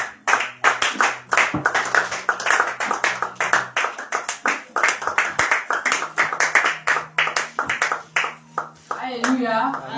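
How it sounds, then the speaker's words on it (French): A church congregation claps to welcome the next speaker. The applause is loud and rhythmic with sharp, dense claps, and a low hum plays underneath. "est-ce qu'on peut l'encourager, est-ce qu'on peut l'acclamer s'il vous plaît?"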